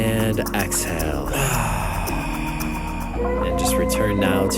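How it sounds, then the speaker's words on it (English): A long, slow exhale during a guided breathing exercise, soft and airy, carried under background music. "And exhale."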